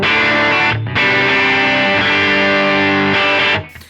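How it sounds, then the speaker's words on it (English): Electric guitar played through a Vermin distortion modeled on the Proco Rat, run in an HX Stomp, giving a thick, saturated sustained tone with a short break near the start and a fade at the end, with no voices. "This is the Vermin distortion based off of the Rat, Proco Rat."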